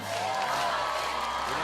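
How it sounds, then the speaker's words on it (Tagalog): A studio audience claps and shouts on a Filipino TV variety show, a short, steady burst of crowd noise that stays loud and even from start to finish. "Palakpakan na may kasama sigawan!"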